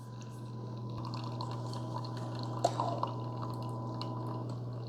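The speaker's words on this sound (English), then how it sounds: "So we can see right now the coffee coming out." Hot coffee from a Keurig K-Supreme single-serve maker drips steadily over ice, a soft continuous trickle under a steady machine hum, with a few brief crackles of melting ice near the middle.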